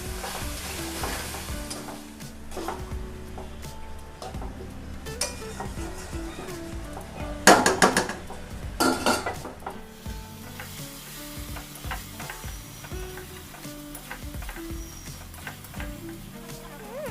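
Potato and mutton keema fry in a pan while a spoon stirs and scrapes, with steady sizzling and a few louder metallic clinks against the cookware midway, close up and without talk.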